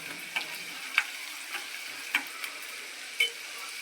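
Onion frying in a pan with asafoetida for a jackfruit vegetable dish, a steady soft sizzle with a few sharp scraping stir clicks spaced irregularly, close and fairly quiet.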